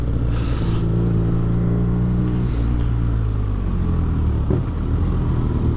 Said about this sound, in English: Just love that exhaust, just pops beautifully.